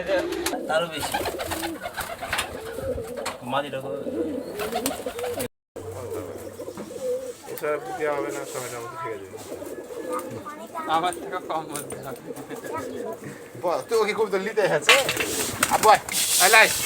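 Ghonobaji breed pigeons coo at a pigeon farm in Rajshahi, soft throaty calls repeating up close while people talk over them through much of the clip.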